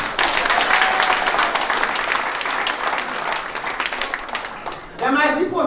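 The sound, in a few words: audience applause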